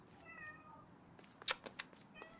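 A cat in The Last Campfire video game gives a few short whiny meows, followed by several sharp bright clicks or taps over quiet background ambience, with no voices.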